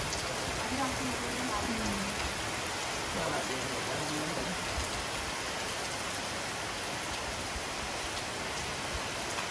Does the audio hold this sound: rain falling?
yes